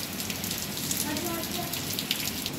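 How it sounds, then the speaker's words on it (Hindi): Heavy monsoon rain pours into a home courtyard during the first rain of Sawan, a steady dense hiss of drops hitting the ground and surfaces, unbroken throughout. "आप लोग देखिए कितना बारिश हो रही है"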